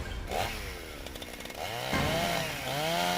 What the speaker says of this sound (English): No, it's a chainsaw.